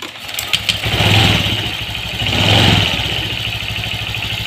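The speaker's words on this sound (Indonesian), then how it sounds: "sekarang sepeda motor dihidupkan" A Honda Vario 125 scooter engine starts and settles into a steady idle, loud and close, with a brief rising surge of revs before a constant buzzing putter continues alone.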